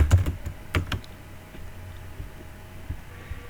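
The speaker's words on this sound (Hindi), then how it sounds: "यहाँ मैंने नेम टाइप किया" Quick bursts of key clicks on a computer keyboard, a fast cluster of taps at first and then a few scattered lighter presses over a quiet room hum.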